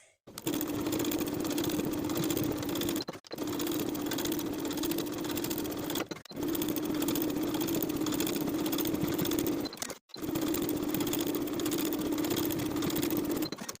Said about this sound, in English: for the armholes, we'll stay stitch from the top to the bottom, again with a regular length stitch and a 1/4 inch seam allowance